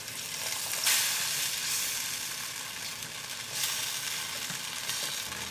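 Cornflour slurry poured into bubbling vegetable Manchurian gravy in a pan and stirred, a dense continuous sizzle and hiss up close that swells briefly twice, with no voices.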